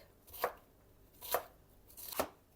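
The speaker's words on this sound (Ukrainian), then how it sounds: "як капусточку, так нарізаю перчик" Three crisp knife chops slice a bell pepper on a cutting board at an even, unhurried pace, close and clear with quiet gaps between them and no voices.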